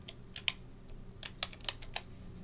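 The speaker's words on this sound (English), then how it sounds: "So you have to go here and type Windows" Irregular bursts of keystrokes on a computer keyboard, clicking close and fairly quiet in short uneven clusters over a low steady hum, with no talking.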